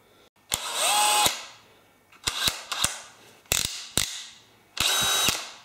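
A Dewalt DCD996 cordless drill runs in five short bursts at full speed with a low-torque clutch setting, each burst whirring sharply and clattering as the clutch ratchets, with quiet gaps between.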